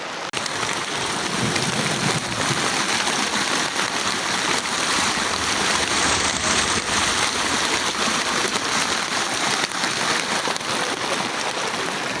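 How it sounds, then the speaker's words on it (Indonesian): Heavy rain pouring steadily on Mount Kembang, Indonesia, a dense constant hiss with no breaks and no talking. "Cuacanya hujan deras."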